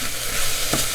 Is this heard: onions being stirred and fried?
yes